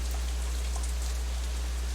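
Steady rain falling in the visual novel Katawa Shoujo, a dense continuous hiss of drops on surfaces over a constant low hum, even and unbroken throughout.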